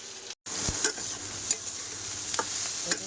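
Okra being stir-fried in a pan gives a steady low sizzle. Brief scraping stir strokes rise above it now and then, with one short gap of silence near the start.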